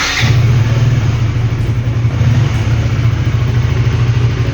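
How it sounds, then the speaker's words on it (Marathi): A motorcycle starts cold in the early morning and settles into a steady, loud idle, its low engine rumble holding even and close for several seconds with no voices. "सीधा बाइक को कोल्ड स्टार्ट करते हैं"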